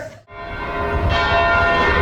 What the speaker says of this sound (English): Bells are going.